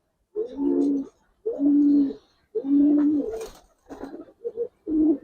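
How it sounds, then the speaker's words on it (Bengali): A Giribaz pigeon coos nearby in a series of low, rounded calls, five or six phrases with short pauses between them, clear and alone with no talking. "এটা একটা গেন্দা কবুতর"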